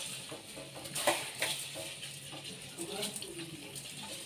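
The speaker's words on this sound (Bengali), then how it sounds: "দেখো চালটা ভালো করে ধুয়ে নিতে হচ্ছে" Rice being rinsed by hand in water in a home kitchen, with soft sloshing and splashing plus a few clinks against the pot, steady and close, under faint background noise.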